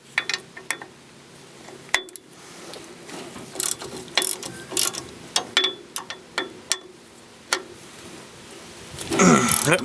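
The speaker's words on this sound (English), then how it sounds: "then we'll loosen these two bolts and the wheel cylinder will be free" Ratchet clicking in short, irregular bursts while loosening the wheel cylinder bolts on a Ford Ranger's rear drum brakes during a brake shoe job, close and fairly loud, ending in a longer scraping rasp.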